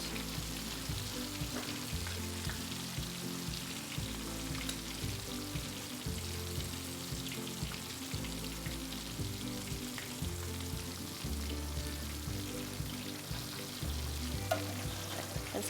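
Catfish fillets frying in a pan of hot oil, a steady dense sizzle with crackling pops running without pause, close and fairly loud, with no voices.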